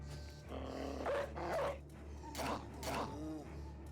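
Dog barking and growling from the video game Battle Brothers, several short gruff barks in bursts over a low steady game hum, fairly close and moderately loud.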